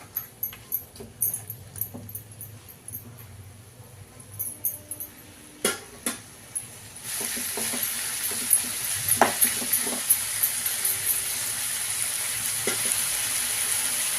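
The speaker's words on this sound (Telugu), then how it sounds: "సిమ్లో పెట్టుకొని కొసపు చికెన్ వేగనిద్దామండి నూనెలో" Chicken pieces for a fenugreek-leaf chicken curry frying in oil over a low flame: scattered clicks and taps at first, then a steady hissing sizzle with occasional stirring knocks, close and fairly loud.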